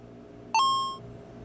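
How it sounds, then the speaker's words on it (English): A single electronic beep rings out once, a short bright tone against a quiet background. "Here's a timer."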